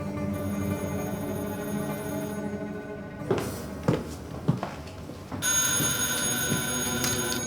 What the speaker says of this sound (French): Soudain, le téléphone sonne.